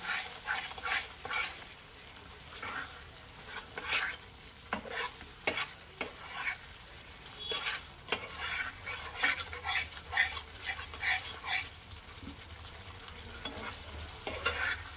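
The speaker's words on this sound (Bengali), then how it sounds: "এটা কষাতে কষাতে এই যে সাইড দিয়ে তেল ছাড়া শুরু করেছে, আরও তেল ছাড়বে।" Egg curry masala is sautéed in oil in a pan, with frequent close stirring scrapes and clinks over a soft, steady sizzle. No one talks.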